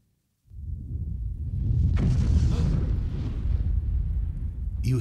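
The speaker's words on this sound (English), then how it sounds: "You hear a thunderous explosion." A thunderous explosion in a video game booms in after a brief silence, a deep sustained rumble that swells, holds loud, and slowly fades over several seconds, with no talking.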